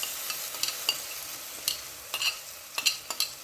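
Masala paste sautéed and stirred in a hot pan for a chicken curry, with a soft sizzle under repeated sharp scraping strokes of a spatula, close up and with no talking.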